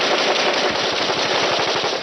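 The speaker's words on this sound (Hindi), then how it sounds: "आतंकवादी क्लेस्निकोव मशीन गन से उनकी तरफ ताबड़तोड़ फायरिंग ओपन कर देते" A Kalashnikov machine gun fires a long, rapid, continuous burst of shots, loud and dense with no pauses.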